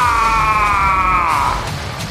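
A terrible drawn-out scream rings out in a horror audio drama, one loud sustained wail that holds steady and then sags in pitch as it trails off over a rumbling background.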